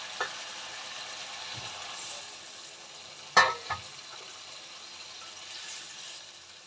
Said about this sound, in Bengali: মাছ ফুটে উঠেছে, ঝোল ফুটে উঠেছে